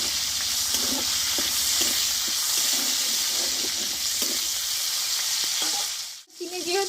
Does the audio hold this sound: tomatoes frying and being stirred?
yes